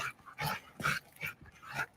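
A dog barks and yips in a series of short bursts at close range during a protection-style training session, with no talk over the sounds.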